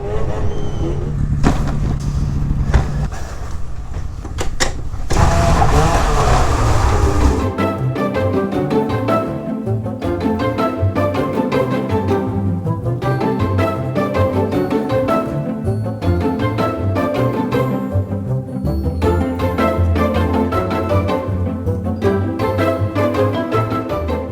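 An Arctic Cat Catalyst 600 snowmobile engine runs close by, a few seconds of rough handling noise giving way to a steady, slightly raspy idle with a regular pulsing rhythm and no voices.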